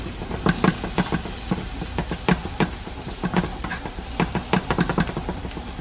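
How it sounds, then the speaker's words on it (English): Garlic and herbs fry in a pan for a sauce, giving a close, lively sizzle broken by repeated scraping stirs in an irregular rhythm, with no voices. "we got our garlic and herbs, putting it in here"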